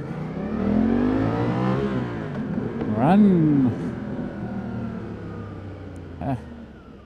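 A Suzuki V-Strom 800 RE motorcycle engine drones while riding off the asphalt onto grass, with its pitch rising and falling as the throttle changes. A rider's voice speaks over the engine.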